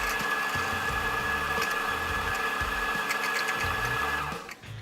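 A Sanremo Cafe Racer espresso setup's grinder grinds coffee beans, giving a steady, loud mechanical whir with a constant tonal hum and low throbbing pulses throughout, tapering off at the very end.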